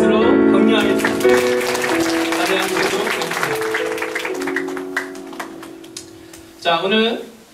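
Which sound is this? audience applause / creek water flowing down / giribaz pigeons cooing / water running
audience applause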